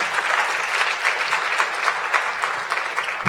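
A hearing audience gives steady, dense applause throughout, with many hands clapping close together at an even level.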